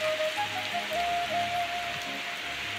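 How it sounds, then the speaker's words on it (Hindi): Heavy rain pours down steadily, a dense, loud hiss of drops drumming on surfaces all around, continuous and unbroken with no voices over it. "केते जोर वर्षा हो"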